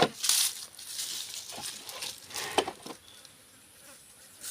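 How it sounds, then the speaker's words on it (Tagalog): Flies buzz around a carabao's ear, a close, wavering insect drone with rising and falling swells and soft rustles, no talk over it. "Sos, ang daming langaw sa tainga."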